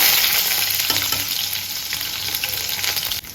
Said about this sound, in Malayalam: ആദ്യം നമ്മൾ സോട്ട് ചെയ്തെടുക്കാൻ വേണ്ടിയിട്ട് ഗാർലിക് ആണ് കേട്ടോ ഇട്ട് കൊടുക്കുന്നത്